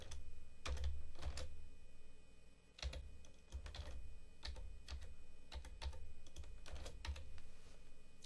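Password typed on a computer keyboard during a security setup: close, quiet bursts of rapid key clicks with short pauses between groups of keystrokes, no voices.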